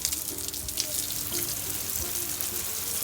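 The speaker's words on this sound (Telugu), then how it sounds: "నీళ్ళు చూడు ఇలా ఫోర్స్గా, ఇలా ఫోర్స్ చూడు" A forceful water jet sprays onto trees to wash off pests, giving a steady, loud hissing splash that runs without a break for the whole stretch.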